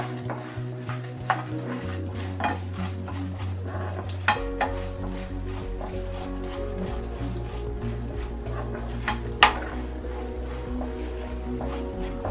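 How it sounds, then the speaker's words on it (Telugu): Urad dal frying in a pan for a spicy stuffed bitter gourd dish, a steady close sizzle with scraping stirs and a low hum running throughout, no talking. "ఈ మినపప్పు, ఇది కొద్దిగా వేయించదు. కొంచెం బ్రౌన్ కలర్ వచ్చే వరకు వేయించదు."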